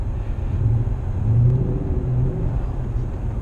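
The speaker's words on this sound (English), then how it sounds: "Personally, I think the exhaust was a little bit underdone. It could be a little bit louder." Ford Mustang GT V8 engine and exhaust from a 2016 model, a steady low rumbling drone that swells slightly mid-way, heard from inside the car with no talking.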